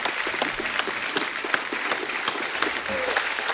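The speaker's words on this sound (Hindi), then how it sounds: "एक बार जोरदार तालियां हो जाएं।" A studio audience at a televised Hindi comedy show claps loudly and continuously, a dense, even wash of applause with a few sharper claps standing out.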